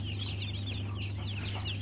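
A dense chorus of Arbor Acres broiler chicks cheeping and peeping continuously at close range inside a brooder, steady high chirps layered over a constant low hum, with no voices.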